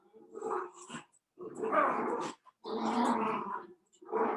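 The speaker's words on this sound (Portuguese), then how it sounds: "Deixa eu só tirar essa cachorrada daqui" Dogs growl and snarl in rough bursts, close and fairly loud, with short pauses between outbursts.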